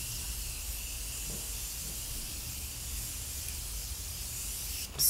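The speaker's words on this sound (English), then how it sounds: "we're gonna use the Morphe setting spray" Steady fine hiss of Morphe setting spray misted onto a face, close and even for several seconds, ending in a sharp burst at the end.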